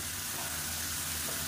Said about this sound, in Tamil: இந்த அரைச்சி வச்சுருந்த ரசப்பொடியே அதில் சேர்த்துக்கலாம். சேர்த்துட்டு நல்லா ஒரு ரெண்டு பரட்டு பரட்டி விட்டுக்கணும்.